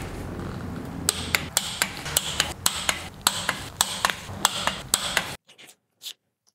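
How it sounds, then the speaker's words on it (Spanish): A ratcheting torque wrench tightens bolts on a Volkswagen 2.0 TDI engine to 40 Nm on the first pass. About sixteen sharp, close clicks come in a steady rhythm, then near silence with one faint click. "Vamos a dar el primer par de apriete, el primer pas, que son 40 Nm."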